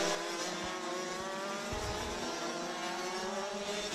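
Rotax DD2 racing karts at the Bruck circuit, engines screaming loud and continuous at high revs as the pack pushes hard around the track.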